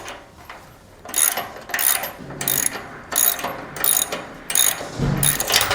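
A ratcheting wrench tightens the bolt on a Yakima HoldUp hitch shank, making loud, close bursts of rapid ratchet clicks in a regular rhythm of about six strokes, with no talk.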